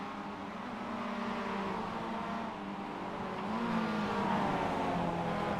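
Mazda MX-5 race cars lapping in a sim racing game, several engines droning together in a steady buzzing pack, their pitch rising and falling through a corner, with no voices over them.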